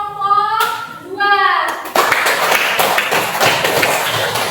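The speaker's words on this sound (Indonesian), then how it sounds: "Oke, tepuk tangan untuk kelompok 2." A classroom group claps for group 2, a dense burst of many hands clapping that starts after a short stretch of children's voices and keeps going steadily, loud and close.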